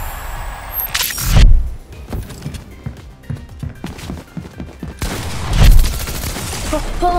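Pump shotgun blasts in the Fortnite desert zone wars mode, two loud booming shots several seconds apart with quieter footstep-like clatter and game noise between them.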